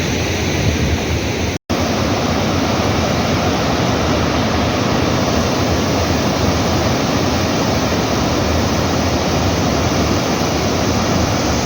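Water rushes steadily down a hillside in Mayurbhanj, a loud, dense, unbroken roar close by, with a momentary dropout early on and no voices.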